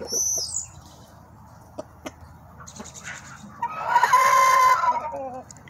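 A rooster crows once, loud and close, after a few scattered clucks and knocks, with a faint voice at the start.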